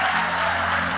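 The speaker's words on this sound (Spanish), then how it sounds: "Dale un aplauso al Señor." A church congregation at an independent Pentecostal service applauds together, a steady dense wash of clapping that fills the whole second with no pause.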